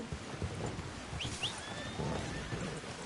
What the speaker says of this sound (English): Just admiring your horse there.